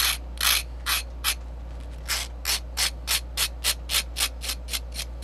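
Burnt grilled cheese scraped with an X-Acto blade, a run of about fifteen sharp rasping strokes in an uneven, then steady rhythm over a low constant hum, close and clear with no speech.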